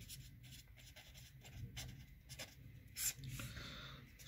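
Chalk or marker scratching on a board in a mathematics lecture hall, short strokes and taps coming in irregular bursts over a low room hum, moderately faint, no speech.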